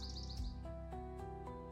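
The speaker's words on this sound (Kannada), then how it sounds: "ಪಕ್ಷಿಗಳು ಮತ್ತಷ್ಟು ಕಿಚ್ಚಾಗಿ ಹಾಡಲು ಪ್ರಾರಂಭಿಸಿದವು." Birds in an animated story chirp in quick, bright tweets near the start, then give sparser calls over sustained musical tones.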